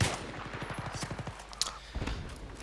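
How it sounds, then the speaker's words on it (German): Rapid semi-automatic pistol shots in the video game Battlefield 3 on the Metro map, a quick run of about a dozen sharp cracks, then a pause and a few more shots. "Man kann mehrere Schüsse hintereinander machen und das ist ziemlich praktisch."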